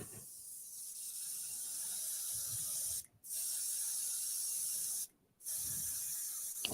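An air compressor drives a spray gun putting paint on a woodturning, giving a steady, fairly quiet hiss that cuts out twice for brief pauses before resuming.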